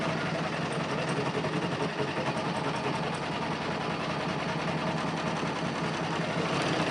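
A sewing machine runs steadily while stitching a decoration, producing a continuous close mechanical whir and rapid needle chatter that never stops.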